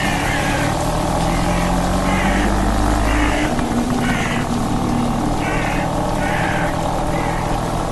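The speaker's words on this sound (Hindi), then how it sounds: "जो स्कूटर शॉन से स्टार्ट नहीं हो रही थी उसे इविल विलन ने स्टार्ट कर लिया" A scooter engine starts and keeps running with a loud, rough buzzing drone and a steady low rumble that never lets up.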